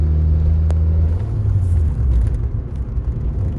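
Turbocharged Suzuki Swift ZC31S engine under boost, a loud deep rumbling drone that swells and shifts in pitch, heard close with no talking.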